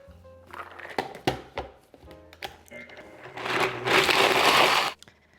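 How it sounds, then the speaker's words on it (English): A blender pulverizing dates and cashews: bumps and knocks at first, then a loud, dense whirring grind that runs for about a second and a half before stopping abruptly. "We're just going to blend this until the dates and the cashews are completely pulverized"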